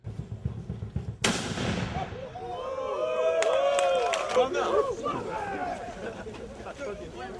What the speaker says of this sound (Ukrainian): Про старт квесту традиційно козаків сповіщає гармата